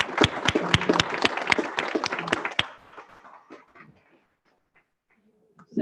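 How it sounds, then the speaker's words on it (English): A roomful of attendees at a board meeting claps for honored individuals: a burst of brisk, fairly close handclaps that thins out after a few seconds and fades to near silence. "can we just have another wonderful round of applause for these individuals?"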